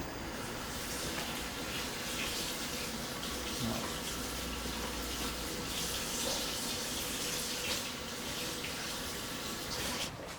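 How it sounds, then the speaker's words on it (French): Mackerel rinsed under a running tap, a continuous splashing gush of water close by with faint clatter, with no speech. "on va rincer nos maquereaux"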